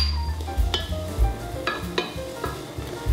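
Minced garlic sautés in a pan with a steady soft sizzle, broken by a few sharp scrapes and taps of a spoon stirring against the pan, close and without talk.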